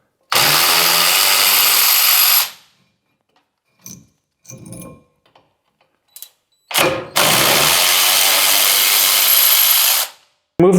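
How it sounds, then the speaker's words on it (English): An electric ratchet spins off 18 mm caliper bracket bolts during a wheel hub job on a Chevrolet Colorado or GMC Canyon. It gives two loud, sustained whirring bursts, separated by a few clanks of tools and parts. "Go ahead and loosen it up with a ratchet, and then we can just spin them off with the electric."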